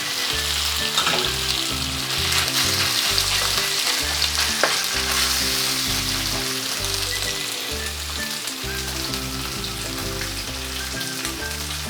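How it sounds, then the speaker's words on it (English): Beef searing in hot oil in a wok, a loud, dense, continuous sizzle and crackle that stays close and steady throughout. "then we're going to sear our meat"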